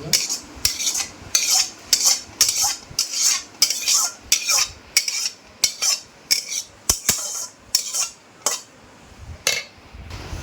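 A metal spoon stirring vegetables, raisins and cashews into fried rice in a pan, about twenty sharp rhythmic scrapes and clinks at a steady pace, close and clear with no talking.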